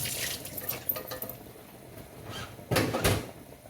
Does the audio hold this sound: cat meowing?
no